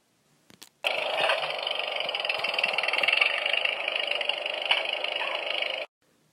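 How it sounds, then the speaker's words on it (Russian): A tractor motor starts with a short cough, then runs in a steady, loud, rattling drone for about five seconds before cutting off abruptly, with no voices. "Послушай, как тарахтит мотор."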